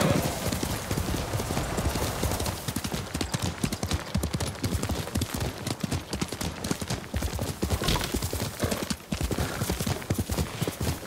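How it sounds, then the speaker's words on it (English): Kage, a horse in the video game Ghost of Tsushima, gallops with a rapid, steady clip-clop of hooves that runs without a break for about eleven seconds, loud and close, over a faint game backdrop. "Good horse, Kage."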